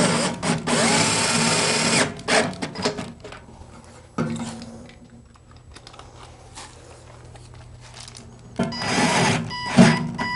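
A power drill drives sheet metal screws to mount brackets on a stand, giving loud whirring bursts with a quieter stretch of handling noise between them.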